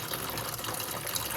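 Tap water runs steadily into a basin, a dense, even gush with no pauses and no voices.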